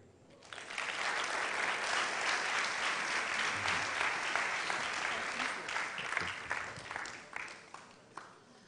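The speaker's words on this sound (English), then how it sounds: "Ladies and gentlemen, another round of applause for Professor Fred Mark Bagonluri." An audience at a school quiz competition's mentorship session bursts into applause, a dense sustained clapping that swells quickly, holds for several seconds and then tapers off.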